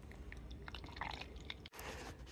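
Liquid from scrapped flat-screen TV processing poured slowly and carefully through a cotton filter, a soft, continuous trickle with faint drips, broken by one sharp bump near the end, with no talking.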